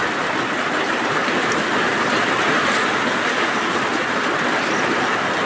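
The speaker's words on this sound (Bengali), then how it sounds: "এদিকে অনবরত বৃষ্টি হচ্ছে" Continuous monsoon rain during a rainy-season fishing outing, a steady, dense hiss of downpour that stays even and unbroken throughout, with no voices.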